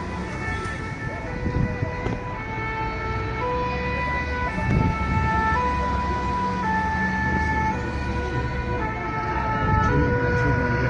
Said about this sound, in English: Here's another ambulance